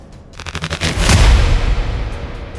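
Sea mine explosions at sea, a series of rapid booming blasts building into a loud, rumbling roar that slowly fades over a couple of seconds.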